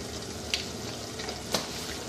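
Brain masala with dried fenugreek and garam masala fries in a pan, a steady, soft sizzle with two brief clinks of a spoon against the pan.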